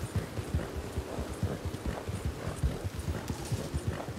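Rhythmic clip-clop of horse hooves at a steady trotting pace in Red Dead Redemption 2, close and moderately quiet, continuing evenly with no speech.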